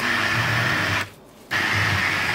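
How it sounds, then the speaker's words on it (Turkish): A blender churns çiğ köfte paste with a steady motor hum, pauses for about half a second, then resumes at the same level. "Blender yardımıyla 5 dakika aralıklarla kıvam alana kadar çekelim."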